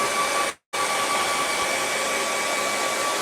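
A hair dryer drying wet paint on a sunset path painting, loud and steady close by with a brief cut-out near the start before the blowing resumes.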